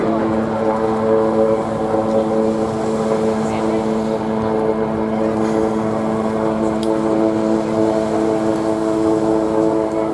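A Wildcat helicopter makes a maximum-rate climb from the hover at a seaside airshow, its steady, loud rotor and engine drone holding an even pitch throughout with no talk over it.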